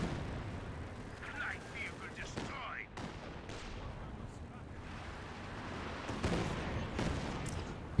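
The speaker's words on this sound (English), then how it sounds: "MG42 with a blast caddy barrage" Battle din from the Company of Heroes 2 strategy game: an MG42 machine gun firing amid a blast caddy artillery barrage, dense continuous rumble and crackle of shots and explosions with brief voice-like bits mixed in, steady and loud throughout.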